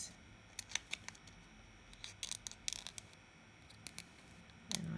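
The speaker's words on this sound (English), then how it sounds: "And then I'll cut across this one first." Scissors snip through a Jamberry nail wrap in a quiet room, a series of short crisp cuts in irregular bursts, some clustered closely together, with a final sharp snip near the end.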